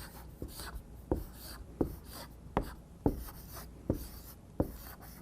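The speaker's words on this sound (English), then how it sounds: "So let's write that down." A hand writing down a number, a scratchy stroke followed by about seven sharp, evenly spaced taps and scrapes, close and quiet with no talk.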